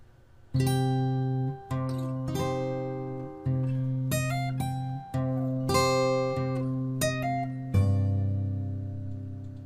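Fingerstyle acoustic guitar plays measures 9 through 13 of a theme, with clear plucked notes and ringing bass in a steady rhythm, close and alone without talk.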